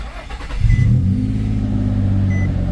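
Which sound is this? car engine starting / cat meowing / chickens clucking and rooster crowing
car engine starting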